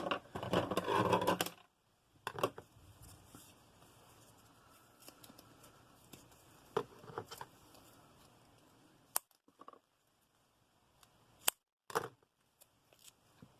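Scissors snip through foam tape in a few sharp, close bursts, with a dense cluster of cuts at the start and isolated clicks and snips after long quiet gaps.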